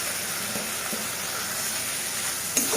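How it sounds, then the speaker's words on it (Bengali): Ground turmeric, coriander and cumin frying in a pan, a soft, steady sizzle with a faint clink near the end, close and fairly quiet. "দিয়ে মশলাটাকে ভালো করে কষিয়ে নেব।"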